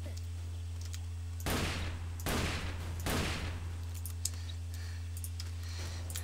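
Three loud gunshot bursts from the blocky shooter Ace of Spades ring out in close succession over a steady low hum, followed by quieter scattered clicks and a fourth faint shot near the end.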